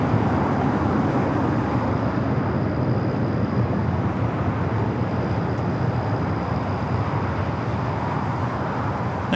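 An Air China jet taxis at night onto taxiway Kilo at LAX, heading for the Tom Bradley International gates, its engines giving a steady, loud, broadband roar that holds unchanged throughout.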